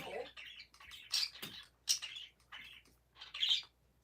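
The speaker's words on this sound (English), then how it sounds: "Don't worry about the noise. It's just the birds that my grandmother has." Pet birds kept indoors give bursts of sharp squawks and high chirps, several calls in quick succession, fairly close and moderately loud.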